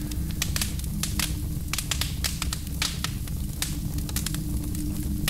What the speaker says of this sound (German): Ein alter Holzofen, der in Brand gesetzt wurde